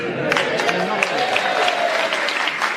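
Studio audience applauding on a panel game show, steady dense clapping throughout with faint voices mixed in underneath.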